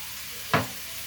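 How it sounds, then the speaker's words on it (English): Carrots tumble into a hot pot for braised beef, giving one brief burst of sizzle and clatter midway through an otherwise quiet stretch. "So now I'm going to put the carrots in here."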